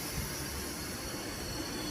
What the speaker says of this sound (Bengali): আরেকটা যাচ্ছে আসানসোল ঝাঝা মেমু স্পেশালের দিকে যেটায় আমরা এখন রয়েছি